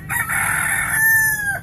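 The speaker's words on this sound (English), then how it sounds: "the rooster has come to check us out" A rooster crows once by a river in Hoi An, Vietnam, a long, loud, drawn-out call close by that rises and holds before trailing off, with no other sounds around it.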